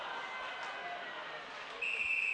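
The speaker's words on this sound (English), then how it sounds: "we got another whistle on the play" A referee's whistle sounds shrill and sustained near the end, cutting through the steady roar of a crowd in an arena during a youth hockey game.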